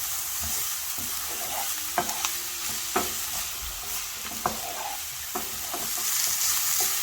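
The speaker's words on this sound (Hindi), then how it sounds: "लहसुन अदरक भी अच्छी तरह से फ्राई हो गया है।" Steady sizzling of garlic and ginger frying in a pan, with scattered clicks of a utensil stirring, close and continuous.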